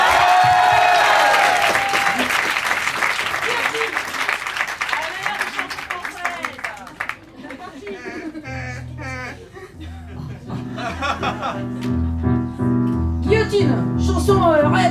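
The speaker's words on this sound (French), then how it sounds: "Allez, applaudissez si ça vous dit" Applause from an audience at an improv theatre festival, loud clapping and cheering in the first half that fades out, then gives way to a voice and music.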